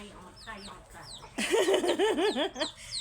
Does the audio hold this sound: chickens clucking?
yes